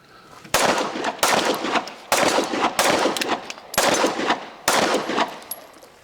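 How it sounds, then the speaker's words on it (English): Six sharp, loud gunshots from a Glock 17 Gen 6 pistol ring out at an uneven pace, each crack followed by a brief decaying echo, close to the listener with no talking. "just from shooting it right there"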